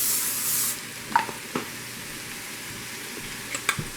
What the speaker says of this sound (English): I'm going to spray my pan with some cooking spray